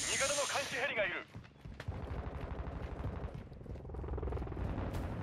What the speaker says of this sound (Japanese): 味方の監視ヘリがいる。